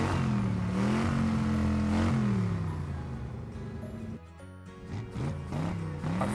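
A cartoon monster fire truck engine revs in rising and falling bursts, loud and close, with a brief dip before revving up again, alone without talk.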